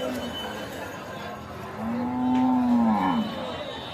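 A local-breed cow at a cattle market moos loudly and drawn-out in the second half, rising then falling, over a busy background of murmuring voices.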